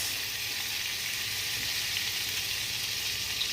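Butter sizzles and crackles steadily in a hot pan while buffalo wings are cooked, a continuous close hissing fry with no talking.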